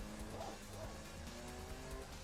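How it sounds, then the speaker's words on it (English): Faint tire squeal from an Oldsmobile Toronado driven in the racing video game Gran Turismo 6, a thin continuous screech over a low engine drone, with some talk alongside. "you hear the tires screeching"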